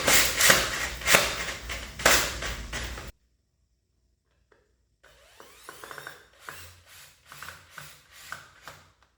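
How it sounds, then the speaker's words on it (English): A power drill pre-drilling wood for a chicken cage stand, heard as a dense grinding burst for about three seconds, then silence, followed by several shorter, quieter ratcheting bursts of drilling. "So I pre-drill my wood."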